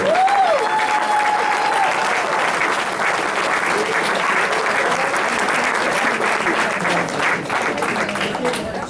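An audience at an African American Caucus meeting of the Los Angeles Democratic Convention breaks into loud, steady applause that fills the room throughout, with a few brief cheers and whistles rising early on.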